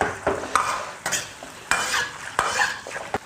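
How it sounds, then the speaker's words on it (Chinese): Marinated yellow catfish stir-fried in a wok with garlic, fresh chilies, ginger and scallion: a hot sizzle punctuated by five or six sharp spatula scrapes and knocks in a quick, uneven rhythm, close and loud. "翻炒匀净"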